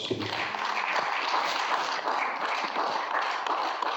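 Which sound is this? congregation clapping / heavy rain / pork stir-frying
congregation clapping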